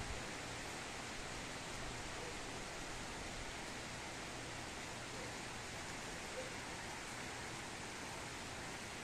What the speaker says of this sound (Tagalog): Malakas-lakas yung ulan. Kanina pa ito eh.